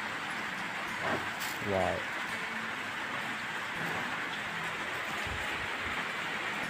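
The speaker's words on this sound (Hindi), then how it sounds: "बारिश दे रही है आप लोग देख पा रहे होंगे" Steady rain hisses throughout, a continuous even wash with a few faint thumps and rustles in the background.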